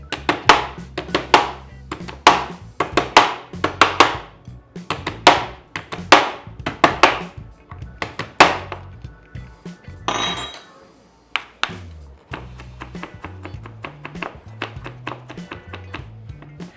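Prepared garlic is pounded in a kitchen with a steady series of sharp, close knocks and taps, pausing briefly midway before lighter rhythmic tapping resumes.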